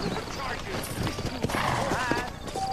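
Horses in the Red Dead Redemption video game clip-clop steadily with a brief whinny over busy background sound, the hoofbeats close and continuous as voices talk over them.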